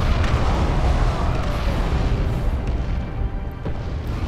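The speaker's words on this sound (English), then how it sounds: "Can I drop an airstrike up there without them noticing?" Airstrike explosions in the strategy game Dawn of War 2 Chaos Rising, heard as a continuous heavy rumbling roar of overlapping blasts that barely lets up across the whole stretch.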